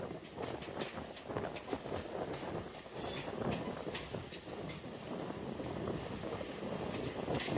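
Passenger train pulling into a station platform on the Narowal section in Pakistan, a steady rumbling clatter of wheels on rails with occasional squeaks and rattles, loud and close.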